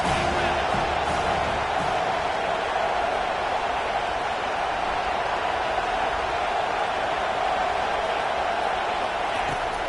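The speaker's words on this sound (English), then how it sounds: "Big 3rd down as the crowd gets behind this defense." A football stadium crowd roars in a dense, steady wall of distant cheering and noise on a big third down, continuous for about ten seconds.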